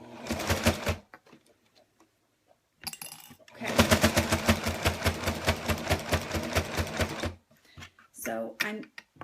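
A sewing machine feeds a snuggle blanket slowly through its presser feet in steady, evenly pulsing stitching runs, a short burst first, then a longer sustained stretch, with a pause between them.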